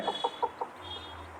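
A chicken clucks four times in quick succession, fairly close, then goes quiet over a low background hum.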